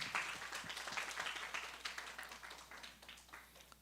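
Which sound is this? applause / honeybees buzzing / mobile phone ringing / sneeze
applause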